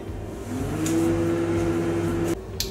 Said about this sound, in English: So I'll keep this inside the